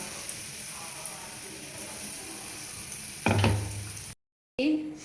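Dried red chilies hit hot oil in a home kitchen pan for rasam, a loud burst of sizzling that swells suddenly after quieter background cooking noise, cuts out briefly, then resumes.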